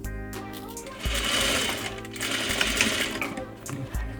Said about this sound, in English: Sew your waistband pieces together along the center back edge where you just pinned with 1/2 inch or 13mm seam allowance